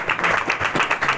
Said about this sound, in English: Applaud.